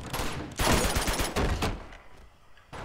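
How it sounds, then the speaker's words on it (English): Loud close bursts of gunfire in the video game Uncharted 2: Among Thieves, a rapid volley of shots that thins out into scattered reports before one last burst at the end. "Oh god, where are we being shot from?"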